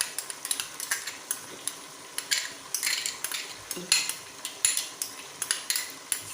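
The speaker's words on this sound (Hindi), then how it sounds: "ये दही में मिक्स करके ये देखिए सारे मसाले हमने दही में शामिल करके" Red chili, turmeric and chili flakes mixed into yogurt for Sindhi chicken biryani, a spoon clinking rapidly and steadily against the bowl in dense repeated taps, close up with no voices.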